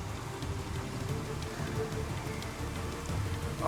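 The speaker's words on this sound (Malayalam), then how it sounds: "തിരുവനന്തപുരത്ത് എങ്ങനെയാണ് ചന്തു മഴ? നല്ല മഴയാണോ?" Heavy rain falls in Thiruvananthapuram, Kerala, a dense, steady patter of drops hitting surfaces close by, with no speech.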